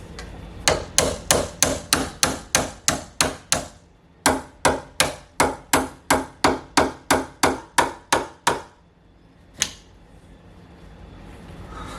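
A rapid series of sharp metallic taps from pliers used as a hammer while installing an interior door knob, two bursts of about ten evenly spaced strikes each, then a single final tap, close and loud.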